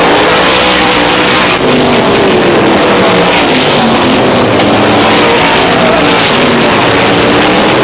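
Stock cars race around Star Speedway in 1993, their engines roaring loud and continuous as a pack passes close by, with a steady drone and no break.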